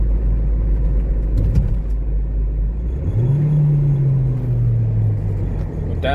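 A Ford Transit van with a transmission fault drives at low speed, its engine giving a steady deep rumble that rises into a sustained whine as it pulls in a lower gear, heard up close from inside.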